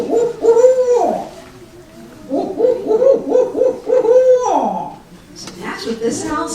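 Someone imitates an owl's hoot aloud in a talk about owls, giving repeated soft 'ooh' calls in two long runs of rising and falling tones. The calls are close and fairly loud, with a brief higher burst near the end.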